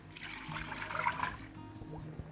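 Water pours into a pot for lentil dahl in a kitchen: a close, steady trickling stream with a slight rise in loudness midway, and no speech.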